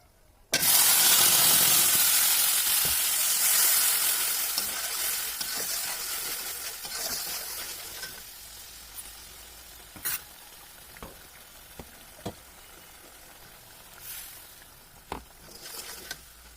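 Ginger, cumin, onion and a little coriander leaf paste hits hot oil with whole cumin seeds for a puti fish dish, bursting into a loud, close sizzle that slowly settles into a steady hiss, broken by scattered stirring clicks.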